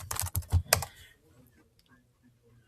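Someone types a short burst of quick, close keystrokes on a computer keyboard, a cluster of sharp clicks followed by quiet.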